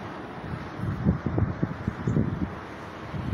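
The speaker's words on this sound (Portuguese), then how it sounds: "O lado de Piracicaba está ventando muito para cá" Strong gusts of wind ahead of a late-afternoon storm in Santa Bárbara d'Oeste buffet the microphone in rough, uneven bursts, close and fairly loud, with no one speaking.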